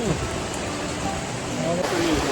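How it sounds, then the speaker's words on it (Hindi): Torrential monsoon downpour on a road trip from Delhi NCR toward Haridwar and Rishikesh, heard from shelter at a roadside tea stall: a steady, dense hiss of heavy rain, loud and continuous, with faint voices murmuring beneath it. "यहाँ बहुत मूसलाधार बारिश हो रही है"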